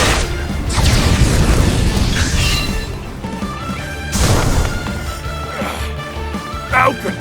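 A fire spell attack lands in the battle of Octopath Traveler 2 with heavy booming crashes and a crackling roar, two big impacts a few seconds apart, loud and close, with game music or voices underneath.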